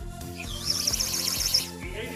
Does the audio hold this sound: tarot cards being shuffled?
no